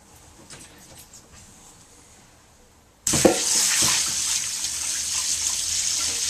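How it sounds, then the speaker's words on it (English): Water from soaked acorns is suddenly poured into a sieve, a loud steady splashing rush that starts abruptly after quiet kitchen noise and continues to the end. "we're going to pour it into the sieve"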